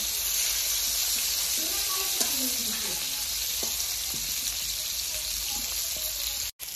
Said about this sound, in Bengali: তো এবারে ডিমটাকে ভালো করে লাল লাল করে ভেজে দিচ্ছি।